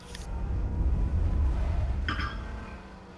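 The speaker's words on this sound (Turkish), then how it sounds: "Araba sesi." Car engine in the battle royale game H1Z1: King of the Kill, a low rumble that swells for about two seconds and then fades, with a brief higher mechanical whine near the end.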